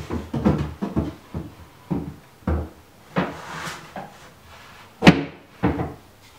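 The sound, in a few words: wooden drawer dropped into place in a sanding center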